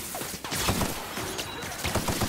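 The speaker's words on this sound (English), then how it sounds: "Who's shooting at me?" Gunfire in the video game The Outer Worlds: a dense, noisy burst of shots and crashing impacts that keeps up for a couple of seconds, mixed with game sounds.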